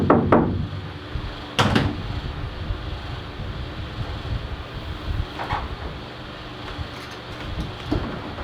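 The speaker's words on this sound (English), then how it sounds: "So here's the knock test." Knuckle knocks on a bare metal Sprinter van body panel: a couple of sharp raps near the start, then fainter scattered taps against a steady low hum.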